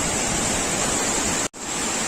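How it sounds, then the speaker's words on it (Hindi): Khandadhar waterfall pouring down with great force, a loud, dense, unbroken roar of falling water that drops out for a brief moment before returning. "अभी जितना जोर का पानी आ रहा है, पानी का स्पीड बहुत ही जोर है"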